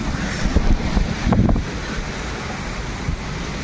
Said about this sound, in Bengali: দেখো আজকে ঝড় উঠছে, সকাল সকাল থেকে ঝড় উঠছে